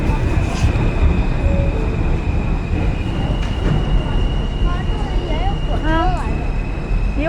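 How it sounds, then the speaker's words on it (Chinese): A New York City subway line 1 train pulls into a station with a loud, continuous rumble, rattling wheels and rising squeals of metal on rail near the end, while people talk nearby. "这边来了一个1号线的地铁，这是往回走的地铁。"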